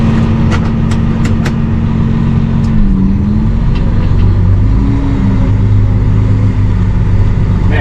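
A new tractor's engine rumbles loud and close in a heavy, steady drone, its pitch dipping and then rising as it revs a little, with a few sharp clicks near the start.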